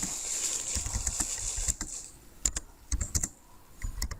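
Computer keyboard typing text into Adobe Illustrator's type tool, irregular bursts of light clicking keystrokes, close and moderately loud, with brief pauses between runs and no speech.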